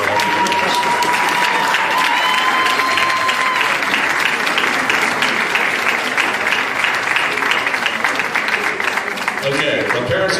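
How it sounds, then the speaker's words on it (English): A graduation audience gives sustained, loud applause, dense clapping and crowd noise filling the hall steadily from start to finish with a few voices mixed in. "I want a round of applause for your parents for putting up with you for all the years"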